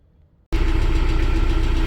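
A tractor engine idles loudly as heard from inside the cab, starting abruptly after a brief quiet moment and then holding a steady, rumbling drone.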